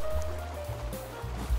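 Water rushes out after being released in the Human Fall Flat video game, a loud, steady low roar of flowing water with surging swells, heard on its own.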